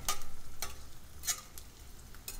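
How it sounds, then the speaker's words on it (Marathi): Edible gum pieces fry in ghee, a soft crackling sizzle with a few sharp pops and stirring clicks, quiet and close. "थोडासा डिंक तुपात घालून तळून घेऊया व्यवस्थित फुलेपर्यंत तळूया"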